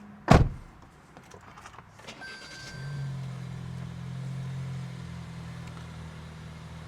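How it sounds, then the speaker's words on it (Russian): A sharp click, then a Toyota Corolla engine cranks and catches, settling into a steady low idle close by. "Так, ну что, теперь включаем автомобиль"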